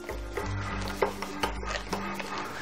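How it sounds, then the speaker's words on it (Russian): Hot milk trickles in a thin stream into a custard base for choux pastry cakes while a whisk or spoon keeps stirring, giving a steady close scraping, swishing texture with soft liquid sounds and a few light clinks against the pot. "теперь я тонкой струйкой, прям не прекращая помешивать, ввожу к нашей заварной основе"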